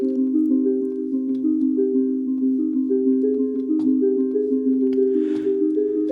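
Generative MIDI sequence playing in Ableton Live, a steady stream of stepped synth notes shifting pitch in a repeating pattern, with a brief noisy burst near the end.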